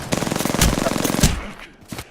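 Rapid automatic gunfire from the Apex Legends battle royale game, loud and dense bursts rattling for about a second and a half with sharp heavier shots, then fading to scattered quieter cracks.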